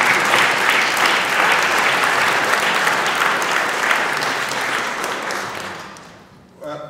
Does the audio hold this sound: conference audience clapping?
yes